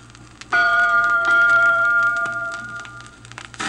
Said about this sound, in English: You will know it is time to turn the page when you hear Tootle's bell ring.